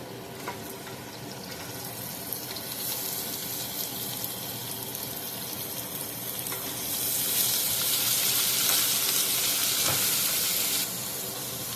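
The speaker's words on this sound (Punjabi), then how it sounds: "ਆਪਾਂ ਕੜੀ ਪੱਤਾ ਪਾਵਾਂਗੇ ਨਾਲੇ ਆਪਾਂ ਜੋ ਪਿਆਜ਼ ਕੱਟਿਆ ਸੀ ਆਪਾਂ ਉਹ ਪਾ ਦੇਣਾ" Curry leaves and chopped onion fry in a pan for a Punjabi spinach chicken curry, a steady dense sizzle that swells louder partway through and then eases back slightly near the end.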